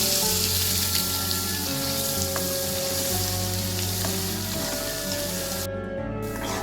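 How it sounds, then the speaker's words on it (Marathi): Ground masala paste, with homemade spice mix, coriander powder and turmeric, sautéing in a pan gives a steady, close frying sizzle over a low background hum throughout. "वाटण छान एक 10 मिनिटे परतून घ्यायचं आहे."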